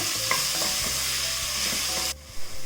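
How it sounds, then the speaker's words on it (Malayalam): Chopped green chilies and onions sauté in a pan over high flame, a loud, close, continuous sizzle with occasional stirring scrapes, cutting off abruptly near the end, followed by a couple of soft thumps. "ഇനി നമ്മൾ ഈ അരിഞ്ഞു വെച്ചിരിക്കുന്ന പച്ചമുളകും സവാളയും കൂടി ഇതിലേക്ക് ഇട്ടിട്ട് വഴറ്റി കൊടുക്കാം"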